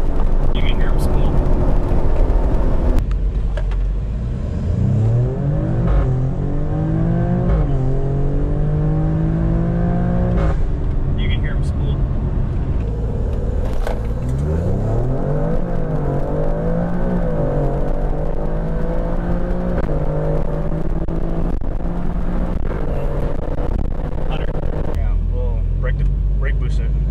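An Alfa Romeo Stelvio Quadrifoglio's turbocharged V6 revs and pulls, its engine note climbing and falling repeatedly with the rising whoosh of turbos spooling, loud and close from inside the cabin, with people talking over it.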